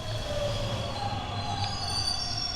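Train from the video game Bendy and the Dark Revival pulling in, with sustained metallic wheel squeal over a low rumbling rail drone, steady and fairly loud throughout without talk.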